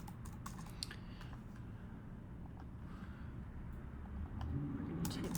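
Keys clatter on a computer keyboard in short irregular bursts, faint and close against a steady background hum, with a louder rumble rising near the end.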